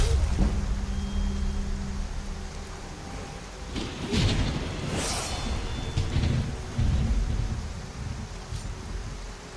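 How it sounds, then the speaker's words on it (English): Thunderstorm with steady rain in the Skyrim video game at night, a constant rain hiss under a couple of loud, rolling thunder rumbles. "think this storm and it being nighttime has given me some cover here"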